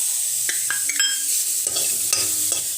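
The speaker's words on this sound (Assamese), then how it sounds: "মই সেই সেম কেৰাহীটোতে এতিয়া মই এই নাৰিকলখিনি ভাজি লম" Grated coconut frying over low heat in a wok, being stirred with steady scraping strokes over a soft, continuous sizzle, close and fairly loud.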